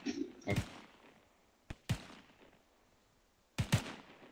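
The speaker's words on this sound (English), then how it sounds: "Just shoot till you empty the mag." Gunshots ring out at an outdoor shooting range while a magazine is emptied: four or five sharp, loud reports in uneven spacing, a couple fired in quick pairs, each trailing off in a short echoing decay.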